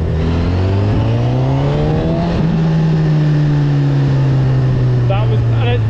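A Honda CB1000R motorcycle accelerates hard, its engine note climbing steeply in pitch, then holding at a loud, sustained howl close by.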